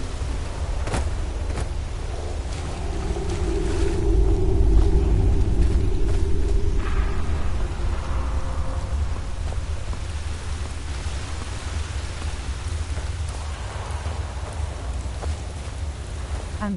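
A waterfall inside a dungeon in the Skyrim video game gives a continuous rumbling wash of falling water, steady and fairly loud, with a few brief clicks and tones from game sounds.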